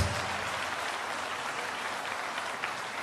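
A church congregation applauds a visiting pastor, dense and sustained clapping that fills the room at an even level from start to finish.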